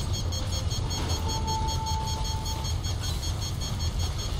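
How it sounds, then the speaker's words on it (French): An alarm beeps in a steady, rapid repeating pattern at moderate volume indoors, continuing unbroken beneath a low background hum. "Est-ce que c'est normal l'alarme avec des..."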